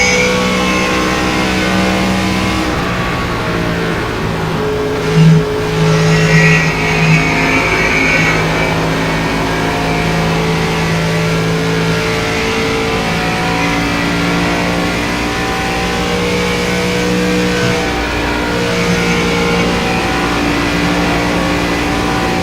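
A steady race car engine roars throughout in an iRacing ARCA Remax Series race at Texas, sustained and loud with shifting pitch as the car holds speed, with no talking over it.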